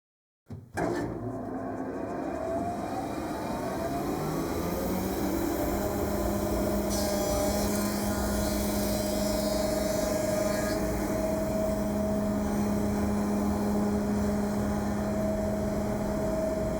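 A thickness planer running a board through a bevelling jig starts abruptly, then holds a loud, steady mechanical whine with a deep motor hum that keeps going for the whole pass.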